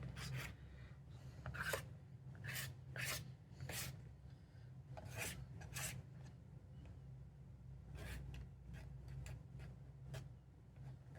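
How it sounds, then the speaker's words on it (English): A pen scraping scratchy marks across paper in a sketchbook, quiet close-up bursts of rasping strokes in uneven rhythm, some short and some drawn out, with no talking. "also like kind of just scraping in the end. I love making little scratchy marks."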